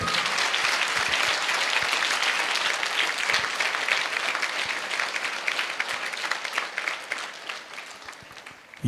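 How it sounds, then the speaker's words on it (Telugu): Steady applause from an audience at a motivational speech, dense clapping that continues evenly for several seconds, fairly close and moderately loud. "నువ్వు అలా నిలిచి చప్పట్లు కొడితే"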